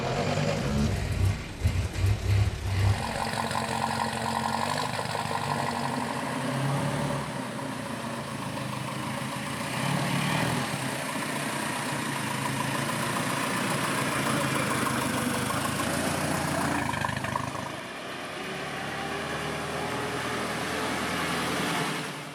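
A 1926 Talbot DC engine of about 40 horsepower idles steadily after starting up, a low continuous rumble that holds for a long stretch without speech.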